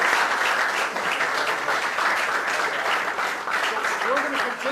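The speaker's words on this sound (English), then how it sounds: "Would you all join me in giving the senator a round of applause?" Applause from an audience at a political forum discussion with a U.S. senator: sustained, dense clapping filling the whole stretch at steady volume, with faint voices mixed underneath.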